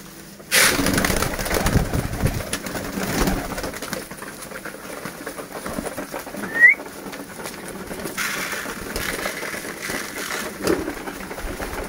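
A pair of pigeons kept for pairing in a coop give low, soft coos, with a brief higher call in the middle and faint rustling in a quiet space, without speech.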